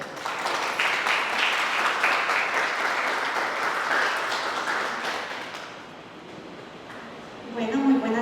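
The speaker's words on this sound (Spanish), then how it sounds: "La recibimos con un fuerte aplauso." Audience at a university lecture on artificial intelligence applauding to welcome a speaker, a dense wash of clapping that fades after about five seconds, with a voice beginning to speak at the end.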